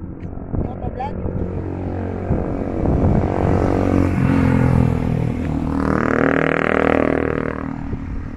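A motorcycle approaches along a road in the countryside town of Bongabong, its engine swelling from a low rumble to a louder drone over the last few seconds, with people talking throughout.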